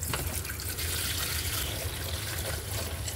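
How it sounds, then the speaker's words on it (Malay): Split gill mushrooms are washed in a bowl of water, giving a continuous close splashing and sloshing that stays soft and steady throughout. "So aku basuh cendawan ni dengan mangkuk lagi lain lah."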